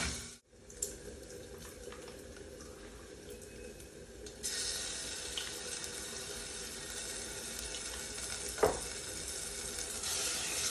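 Steady sizzle of frying bacon, then a sudden louder hissing surge as salted water hits the hot pan and keeps bubbling vigorously.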